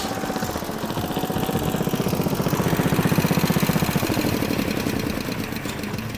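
An old drag saw from the late 1940s or early 1950s runs while cutting through a log, its engine chugging in a steady, loud rhythmic beat that swells midway and then eases, with no talking.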